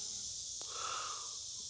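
Bees buzz steadily close by among catnip plants outdoors, a constant high drone with one brief louder pass.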